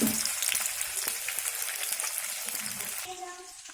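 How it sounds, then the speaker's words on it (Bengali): Rui fish frying in hot oil, a dense, steady sizzle heard up close that thins out toward the end, with no one speaking. "আর এই দেখো মাছটা আমি ভেজে নিচ্ছি এদিকে"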